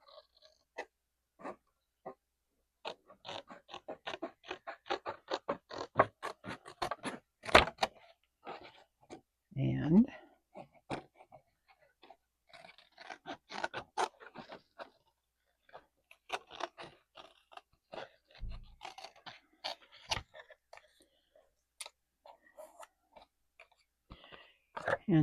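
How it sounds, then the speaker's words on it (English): Scissors trimming paper close to the edge of a wooden piece for a sticky-note desk organizer craft: a close series of short, crisp snips and crunches in an irregular rhythm, with brief pauses and occasional low vocal sounds. "I'm going to use scissors to get it as close as I can to the wood."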